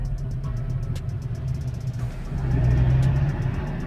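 A small coupe's engine idles with a steady low rumble and a slight surge in the last second or so, heard close with a faint rapid ticking above it and no voices.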